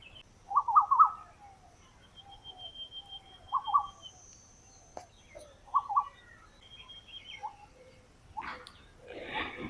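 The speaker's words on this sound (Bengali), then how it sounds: "এই যে কোকিলের ডাক কত সুন্দর," An Asian koel calls outdoors in a quiet setting, giving several separate short, rising calls at moderate loudness. A brief rustling burst comes near the end.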